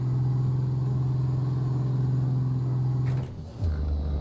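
Heavy truck engine in Euro Truck Simulator 2 hauling 34 tonnes up a mountain grade, a steady low labouring drone that dips and shifts pitch during a gear change near the end.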